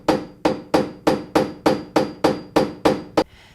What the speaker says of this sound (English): Now chisel around the marked line for the striker plate.